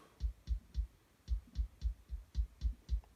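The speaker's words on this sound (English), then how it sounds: "So here's our kick drum." A soft, low kick drum thumps in a steady pattern on a PreSonus StudioLive Series III mixer, about ten muffled hits in quick succession, fairly quiet and alone.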